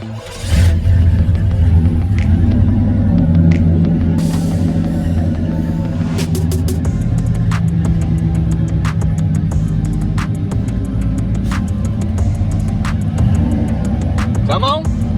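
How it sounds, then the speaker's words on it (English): An old original 350 V8 with throttle body and Flowmaster exhausts idles with a steady low rumble, loud and close, while a voice talks over it and sharp clicks punctuate. "Got the original old 350 in it. It's that throttle body, but I put some Flowmasters on it so we keep it clean."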